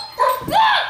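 A dog named Jet gives a short, high whining yip that rises and then bends upward into a second cry, close to the microphone and loud, with no other sound around it.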